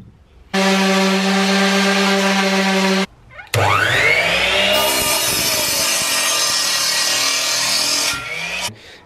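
Saw cutting the wooden ball tops off a handmade dining table, loud and close: one steady, high-pitched cut, a short pause, then a second longer cut whose pitch rises as the blade bites in, with no talking.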